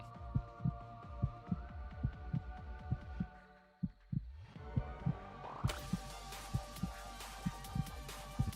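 A low-health heartbeat effect in a zombie roguelike video game, a deep repeating double thump with a steady pulse over a low hum, briefly dropping out midway before returning over brighter background game noise.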